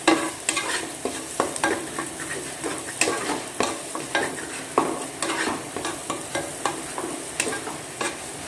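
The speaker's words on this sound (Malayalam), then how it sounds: "ഉള്ളി നന്നായി വഴറ്റി വന്നു" Onion, green chili, ginger and garlic sautéing in a pan for a potato curry, with a steady sizzle and repeated stirring scrapes at a regular rhythm, close and fairly loud, with no talking.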